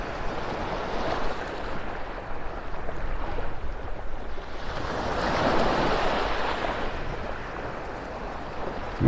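Ocean surf on a Gulf beach in North Naples, Florida, waves washing in and breaking in a steady broadband wash that swells around the middle, close and fairly loud with some wind, no voices.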